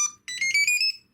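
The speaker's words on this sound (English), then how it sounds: "I can't leave it plugged in too long because the alarm goes off." An alarm on an FX61 drone build with a RunCam sounds when the battery is plugged in: one short chirp, a pause, then a rapid run of five loud, bright electronic beeps close by.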